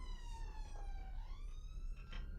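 A police siren wails with rising and falling pitch over a steady low rumble, continuous and moderately loud throughout, in a radio play.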